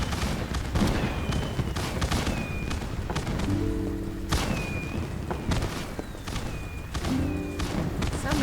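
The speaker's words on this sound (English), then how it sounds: "We'll watch some fireworks and wait for this to finish." Fireworks in the video game My Time at Sandrock: repeated booming bursts and crackling volleys with thin rising whistles, spread unevenly over several seconds.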